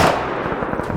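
Gunfire in the PC battle-royale game PUBG: a loud burst of rapid, crackling shots packed into about a second, up close, with no talking.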